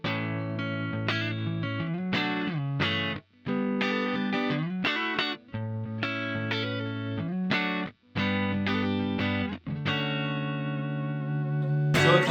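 Clean electric guitar through an amp plugin playing a melodic line of chords and single notes, bright and sustained with a touch of chorus and reverb.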